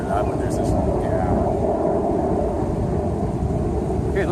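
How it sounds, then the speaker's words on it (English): Two loud fighter jets flying overhead in Ecuador, a continuous heavy rumbling roar that fills the whole stretch, outdoors with some wind on the microphone. "there's two nice loud jets flying overhead"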